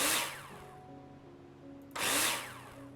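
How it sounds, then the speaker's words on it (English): A power drill in the Builder Simulator video game drives screws in two loud whirring bursts, one at the start and another after a short pause, each fading away. "Take your drill out and screw them in."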